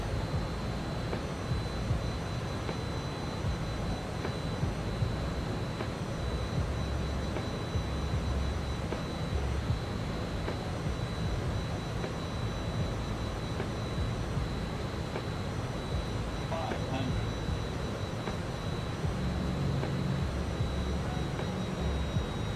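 Steady jet engine roar from an F28 airliner in Microsoft Flight Simulator 2020 as the throttle is advanced, a continuous broadband drone with a faint high whine, constant and fairly loud throughout with no talking.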